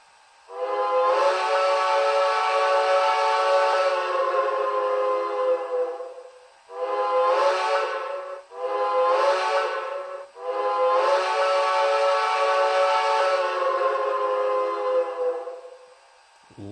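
A steam whistle sounds from an HO-scale PRR Tuscan K4 locomotive with an ESU Loksound 5 decoder. A long, loud chime blast is followed by two short toots and another long blast, with no talk over it.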